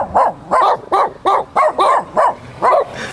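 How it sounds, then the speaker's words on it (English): Loud, close dog barks repeat in a regular series of about eight sharp yelps, evenly spaced with short gaps. "I like how these dogs are so loud."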